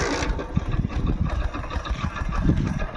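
A 2015 Hero Splendor Plus motorcycle engine starts and settles into a steady, close idle with an even, throbbing mechanical putter that stays level throughout.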